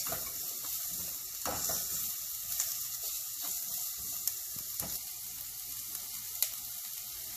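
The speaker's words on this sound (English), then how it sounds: "I'm just going to saute for at least 1 minute" Tofu scramble sautéing in a pan: a soft, steady sizzle and hiss with occasional stirring scrapes and light clicks, close and fairly quiet, with no talk.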